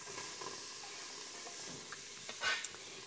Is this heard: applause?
no